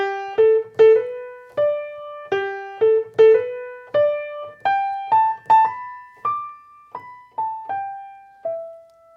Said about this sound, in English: let's add in that mistake and correction like Granddad said